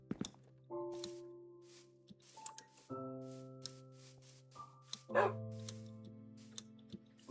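A dog in the Minecraft video game gives several short, clipped barks spaced unevenly over gentle in-game music tones.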